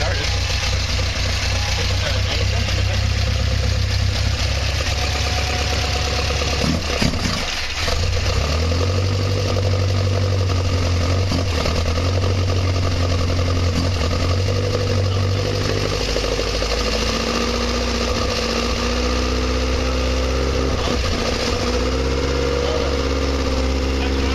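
A 1960 Triumph TR3A engine on Weber DCOE 42 carburetors runs loud and close on its first start, with a steady deep rumble and slight changes in revs as the choke is adjusted, while someone talks over it.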